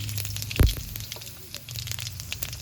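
Bay leaf, two dried red chillies and whole cumin drop into hot oil for tempering, giving one sharp burst of sizzle followed by a steady, faint crackle close by.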